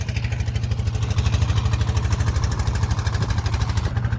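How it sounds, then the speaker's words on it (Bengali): A small fishing trawler's engine chugs loudly and steadily at close range near a ferry ghat at Bashbariya, its rapid, even thumping pulse running unbroken with no voices over it. "এটি একটি এখানের মাছ ধরার ছোট্ট ট্রলার"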